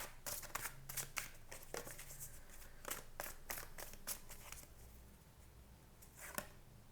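Tarot cards are shuffled close by in a string of quick, crisp riffles and taps that grow sparser and softer toward the end, with no talking.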